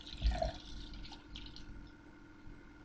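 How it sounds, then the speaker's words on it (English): A drink is poured into a glass: a brief splash near the start, then a quiet, steady trickle of liquid under faint room noise. "Let me just pour myself a drink."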